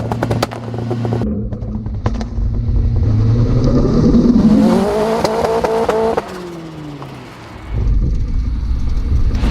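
A drag race car launches hard and runs up through its gears, engine roar climbing in rising sweeps with quick shift breaks, loud and close, ending in a lower lull before the roar returns.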